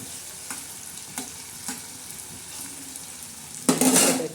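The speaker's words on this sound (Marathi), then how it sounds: "छान असा चांगला हलवून घ्यायचं म्हणजे कांदा चांगला लाल तयार होतो" Onions stirred and frying in a pan during tempering for stuffed okra, a steady sizzle with a few spatula scrapes, then a sudden louder burst of crackling near the end.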